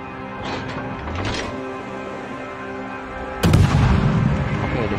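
Warship guns fire in World of Warships, a couple of muffled booms early on, then a louder heavy blast with a rumbling tail near the end, heard under faint game sounds.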